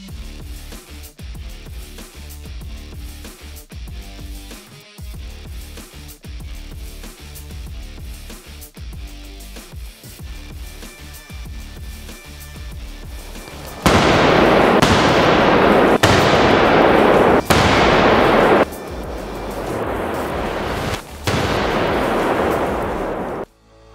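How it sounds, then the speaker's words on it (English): Live non-electric demolition charges going off on a military engineers' training range. A run of sharp, rapid blasts gives way to several loud, roaring explosive bursts, each ringing out and cutting off abruptly. "we set off our charge and then confidently walk away once it's live and firing."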